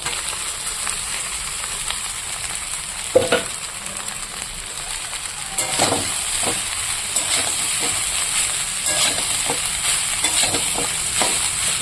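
Cooked rice tossed and stirred in a hot pan, a steady loud sizzling hiss broken by repeated scraping strokes of a spatula, with no voices.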